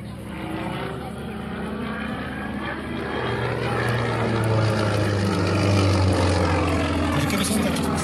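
A Sukhoi Su-31 aerobatic plane tumbling through maneuvers at an airshow, its engine drone swelling steadily louder from moderate distance, with faint crowd or commentary sounds beneath.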